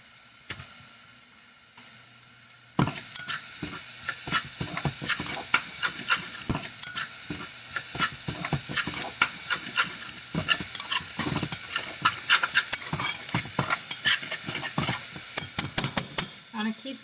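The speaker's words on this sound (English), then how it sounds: "And saute these." Food sizzles steadily in a hot pan with oregano and black pepper, broken by frequent clattering stirs of a utensil against the pan, close and fairly loud throughout after a quiet start.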